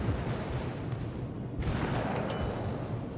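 The HMS Warspite battleship's secondary guns fire in World of Warships: a run of booming shots and sharp cracks over a constant heavy rumble, with a brighter burst of blasts midway.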